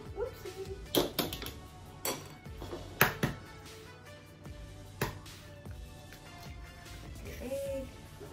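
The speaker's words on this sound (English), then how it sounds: "Okay, crack your egg." An egg cracking into a bowl in a kitchen while making low-carb bagels, with a few sharp taps and knocks spaced about a second apart, fairly quiet, followed by faint handling noise.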